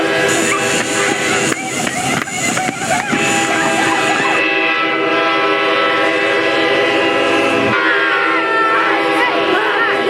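A train horn blares loudly and close while the heavy rumble and clatter of rail cars rolls past.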